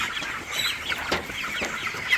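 Chickens kept on a raised slatted farm platform cluck softly and continuously, several birds close by, with low farm background noise and no talk.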